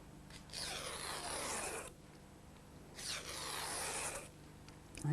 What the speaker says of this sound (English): between them you pull the ribbon through